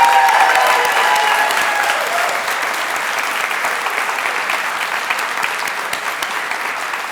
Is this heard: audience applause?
yes